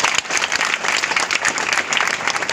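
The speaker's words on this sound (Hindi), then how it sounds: "तो मैं चाहूँगी हमारे सर के लिए दोबारा एक जोरदार ताली होनी चाहिए।" Loud, steady applause from an audience at a shop event in India, dense clapping filling the whole stretch without pause.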